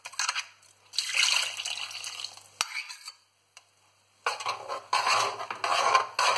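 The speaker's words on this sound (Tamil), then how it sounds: "இதுலையும் கொஞ்சமாக தண்ணி ஊற்றி அதையும் கொஞ்சமாக கலக்கி இதில் ஊற்றிடுங்க." Coconut mixture thinned with water is poured and stirred into a kadai for Nagercoil coconut fish kulambu, giving close, loud bursts of liquid splashing and stirring, separated by a pause with a brief clink.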